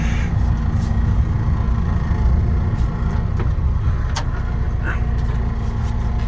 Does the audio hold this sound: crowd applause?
no